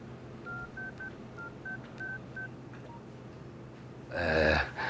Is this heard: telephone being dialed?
yes